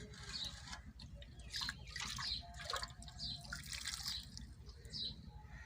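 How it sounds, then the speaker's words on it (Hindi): Cooked rice for zarda being rinsed in cold water, with soft splashing, trickling and dripping close by in a home kitchen. "अब हमने थोड़ा सा पानी से इनको अच्छी तरह से ठंडे पानी से धो लेना है।"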